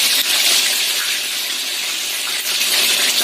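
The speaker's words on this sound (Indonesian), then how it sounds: "Kita goreng yang selanjutnya ya." Crispy chicken pieces frying in hot oil, a loud, close, steady hiss and sizzle with no break.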